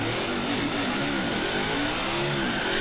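Video game car doing a burnout, a steady loud engine roar with rising and falling revving pitch sweeps filling the whole stretch, no voices.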